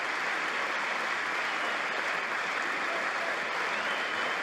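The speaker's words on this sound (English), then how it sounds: "Democrats clapping." Democrats in Congress applauding, a steady, even wash of many hands clapping at moderate distance, continuous for several seconds without voices.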